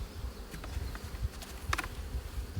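Honey bees buzz around their hives in a test yard, a steady low hum from many insects close by, with faint ticks and brief passing sounds over it.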